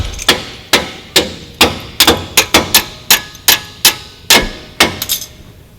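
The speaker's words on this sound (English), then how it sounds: "So to put the new one in, A hammer will be required." Sharp metallic hammer blows ring out one after another, about a dozen loud, close strikes in an uneven, working rhythm with brief ringing after each, during a leveling kit install on a Ford F250 Super Duty truck.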